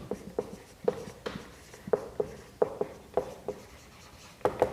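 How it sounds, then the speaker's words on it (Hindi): Quick strokes of writing on a classroom board for a physics lesson, sharp rhythmic taps and short scrapes repeating steadily, close and without talk. "सिंपल में लिख रहा हूं"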